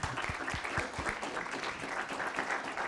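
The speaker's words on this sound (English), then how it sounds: "Now I'd like to applaud Michael." Audience applause after a talk at a media industry event on digital transformation, steady dense clapping throughout without a break.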